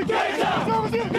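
A home crowd in the bleachers yells and chants loudly at a high school football rivalry game against Walnut Grove as the Hurricanes storm through before kickoff, a dense, sustained roar of many voices close by.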